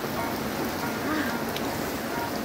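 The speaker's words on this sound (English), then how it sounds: "I'm gonna show you what it looks like when it's raining this hard" Heavy rain pours down steadily on a boat, a dense, loud, continuous hiss of drops hitting surfaces with no letup.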